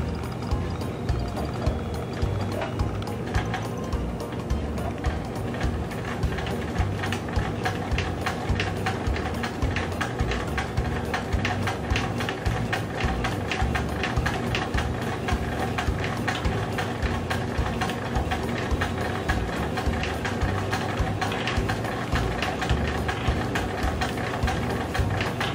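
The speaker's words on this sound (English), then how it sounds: "So now I'm gonna start to sew." Sewing machine stitching the hem of a doll blouse, a steady, dense mechanical whirring drone that runs continuously and close up, with no talk over it.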